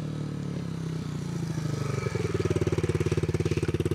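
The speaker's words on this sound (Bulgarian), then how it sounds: "Моторчето го остави, нека си загрее" A small pit bike engine idles close by while warming up, its rapid chugging pulse growing more pronounced and rhythmic as it runs, with no voices.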